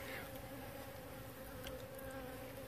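Honeybees buzzing during a removal from a mobile home in Florida, a dense steady hum of many bees swarming close by, continuous and fairly quiet with no voices.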